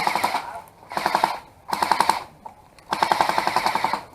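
Video game automatic gunfire in four sustained bursts of rapid rhythmic shots, loud and close, with short gaps between bursts and no voices over them.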